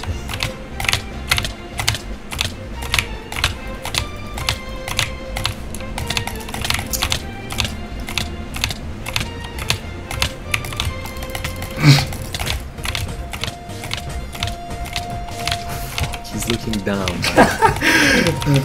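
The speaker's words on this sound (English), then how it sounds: "Press so many keys, oh my god." Keys on a computer keyboard are pressed rapidly during a Minecraft 1.9 PvP fight, producing a fast, loud stream of crisp clicks in bursts, with voices talking over them.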